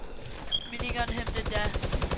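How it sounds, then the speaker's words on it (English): Rapid, continuous minigun fire from a video game, a dense rattling burst that kicks in sharply after a brief lull and hammers on loud and close to the end. "I keep minigunning him"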